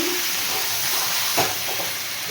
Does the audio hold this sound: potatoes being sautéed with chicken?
yes